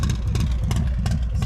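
Harley-Davidson motorcycle with a Stage 2 475 cam and RAM Cycles tuning idling from about three feet behind the exhaust: a loud, lumpy, uneven pulsing burble with sharp irregular pops, heard alone.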